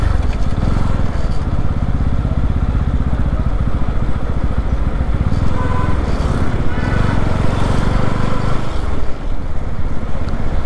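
Motorcycle ridden along a busy road among trucks, the engine and wind rumbling steadily and loudly throughout, with a voice talking over it at times.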